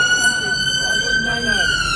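Siren from an ambulance passing a street protest in the UK, a steady high wailing tone running unbroken and fairly loud against crowd noise and voices.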